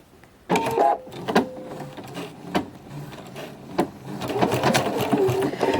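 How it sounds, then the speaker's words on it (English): Domestic sewing machine stitching a flying geese quilt block, running in close, loud bursts of rapid needle whir with brief pauses between runs. "So I'm going to start sewing at the top."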